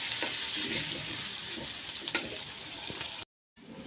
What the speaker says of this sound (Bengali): আমার পেঁয়াজটা যখন হালকা ভাজি হয়ে যাবে,